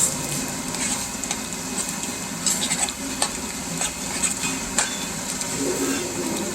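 Ingredients for chicken kalguksu are stirred and loosened in a pot, with continuous scraping and clinking of a utensil over a sizzling, bubbling background.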